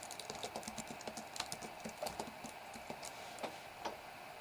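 Quiet typing on a computer keyboard at a Windows PC, with a run of irregular, close key clicks tapping out a short phrase over a few seconds and no speech.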